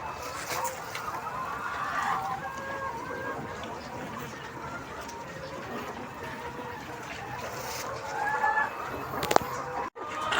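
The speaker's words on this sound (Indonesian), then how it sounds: "Ini kita berada di ayam muda yang berumur kira-kira 120 hari ya." Young chickens about 120 days old cluck and chirp in a coop, a busy murmur of soft calls with a person talking over them.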